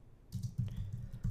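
Someone types on a computer keyboard while building a webpage. Short bursts of soft, close keystrokes tap out in an uneven rhythm after a brief quiet start, with no talking.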